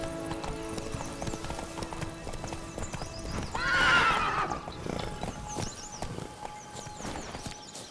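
A horse galloping in The Witcher 3: Blood and Wine, with steady clip-clop hoofbeats and a loud whinny partway through, all set over continuous game music and ambience.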